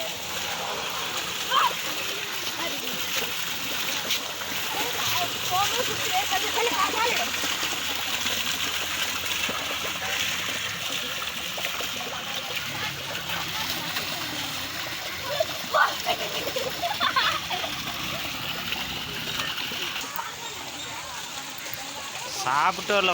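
Water splashing and trickling steadily at a park in Bhavanisagar, with scattered bursts of splashing under ongoing distant voices and chatter throughout.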